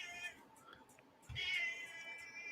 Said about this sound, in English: I'm making your cat angry.